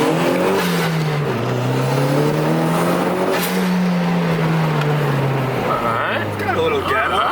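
A tuned 90s Toyota with coilovers and a limited-slip differential, its engine droning and revving with rising and falling pitch, loud and close, with people talking over it.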